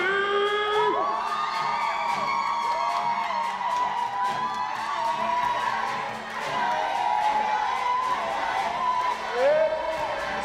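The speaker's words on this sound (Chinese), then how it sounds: "掌声好像不够大声哦" An audience at a staged show cheers, whoops and shouts loudly, with excited voices rising and falling over a continuous crowd roar.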